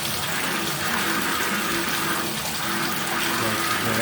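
Water rushes steadily through furnace heating pipes while a valve is being adjusted, a continuous loud hiss and gush that holds its level for the whole stretch with no pauses.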